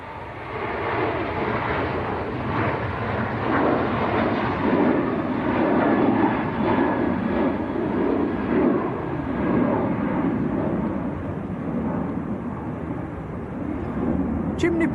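A Ryanair airliner departing Manchester Airport for Alicante rolls on its takeoff run, producing a sustained, rumbling jet roar at moderate distance that stays fairly constant throughout.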